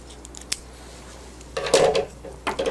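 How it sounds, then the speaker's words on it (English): Scissors trim off a piece of thermal tape beside a cap transfer press, with a faint tap followed by a couple of close, crisp snips near the end. "then I'll trim off another piece of tape"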